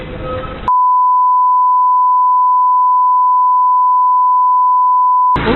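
A phone call's ringback tone goes unanswered: one long, steady electronic beep holds unbroken for nearly five seconds, loud and clean, with brief background noise on either side.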